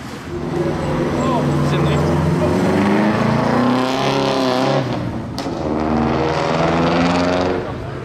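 The first supercar of a rally arrives in Monaco, its engine rumbling loud and close with deep, rising and falling revs as it rolls in and slows.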